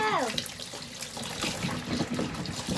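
Baby potatoes are rinsed under a running kitchen tap, with water trickling and splashing in a sink close by while someone talks over it.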